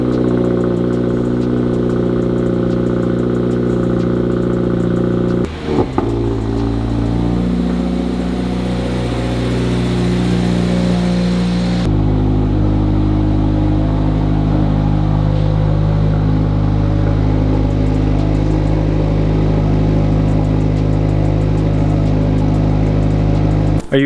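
A Subaru WRX engine runs loud and close, a steady idle humming with a brief shift in tone partway through as the car is pulled out, then settling into a deeper, even drone.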